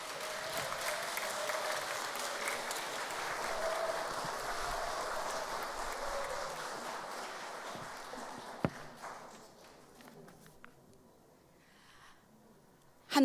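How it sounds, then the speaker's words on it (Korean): A large audience at a Korean memorial ceremony applauds to welcome a speaker, sustained crowd clapping that stays strong for several seconds, then fades and thins out with a few scattered claps and room noise toward the end. "갑자기 말씀을 하시게 된 이우남 동덕님을 큰 박수로 맞이해 주시기 바랍니다"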